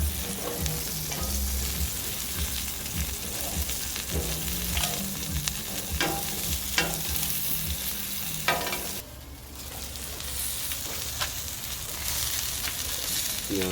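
Green onions sizzle steadily as they fry in a pan for tacos, a dense close crackle with occasional utensil knocks and stirring scrapes, briefly shifting midway as the pan is moved.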